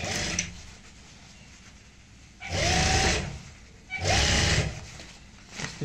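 A sewing machine stitches handbag pieces in short runs, two loud whirring bursts of about a second each with a pause between, over quieter handling noise and a faint start at the beginning.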